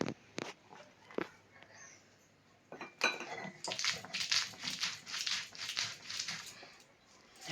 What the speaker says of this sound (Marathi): लसूण पण त्यातच असा बारीक वाटून घेणार आहे मी आता